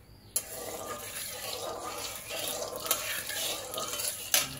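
Quartered potatoes drop into hot mustard oil in a kadai and burst into a sudden sizzle, which settles into a steady crackling fry with a sharp clatter near the end.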